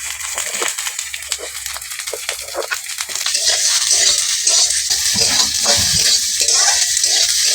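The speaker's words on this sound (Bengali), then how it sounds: "কেটে রাখা ঝিঙেটা দিয়ে দিচ্ছি তেলের উপর" Cut ridge gourd dropped into hot oil sets off a burst of sizzling that builds and settles into a steady, close crackle, with a few stirring scrapes.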